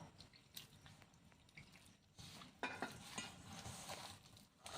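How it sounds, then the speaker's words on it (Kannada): Bajji batter being mixed by hand with a little added water, soft wet stirring and squishing sounds close up, low and intermittent, with some clinks of a bowl and no speech. "ಈಗ ನೋಡ್ರಿ ಸ್ವಲ್ಪ ನೀರು ಹಾಕ್ಕೊಂಡು ಕಲಿಸ್ಕೊಳ್ಳೋಣ"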